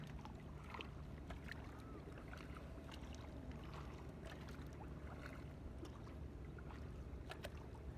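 A small boat is paddled across open water near wooden fishing boats, with soft low splashes and steady wind rumble throughout, faint and continuous, with no talk.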